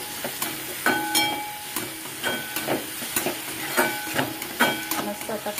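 Ridge gourd dry vegetable cooks in a pan under a lid with a soft, steady sizzle. Faint clinks and bursts of steam rise at irregular intervals, and no voice is heard.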